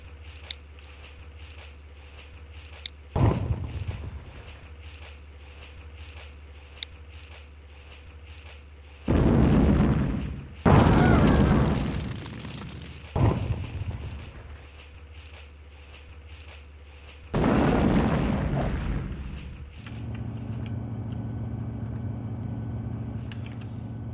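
Howitzer artillery in the Sudden Strike Forever war game fires as several heavy booming blasts separated by quiet stretches, each a loud broadband burst that rumbles briefly before fading into a low engine hum.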